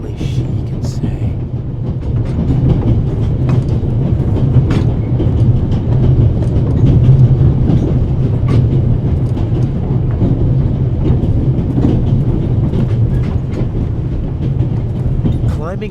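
A moving steam train with a coal car in the video game The Raven Remastered rumbles continuously, with a low heavy drone and scattered metallic clicks and clatters throughout, steady and fairly loud.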